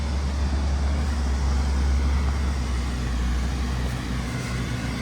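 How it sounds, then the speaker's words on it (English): Valtra tractor approaches on a farm, a steady low engine rumble that holds fairly loud and even throughout, with no talk over it. "Yeah, the Valtra coming now."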